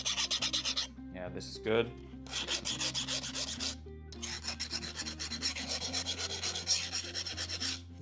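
A hand file rasps across a hardened, imperfectly quenched steel blade for a knife build, giving repeated short scraping strokes in bursts with brief pauses, loud and close, and a voice speaks briefly once.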